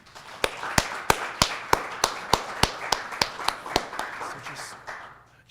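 Clapping for a presenter at a RisoLAB talk: about fifteen sharp, evenly spaced claps in a steady rhythm, close and fairly loud, with little else around them.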